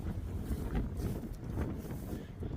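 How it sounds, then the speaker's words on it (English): Another outdoor wind gust buffets the microphone with a steady, rushing roar that swells and eases slightly, close and continuous, with no talking. "Another little wind gust coming."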